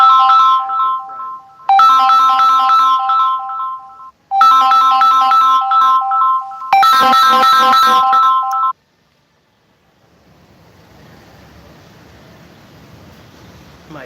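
A mobile phone ringtone plays loud and close in three repeated melodic bursts with short gaps, then stops, leaving only faint background noise.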